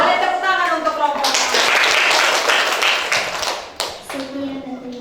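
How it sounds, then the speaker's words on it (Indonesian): Classroom applause for a student group, a burst of many hands clapping at close range that rises quickly, holds for a few seconds and fades, with voices around it. "Boleh tepuk tangan untuk kelompok."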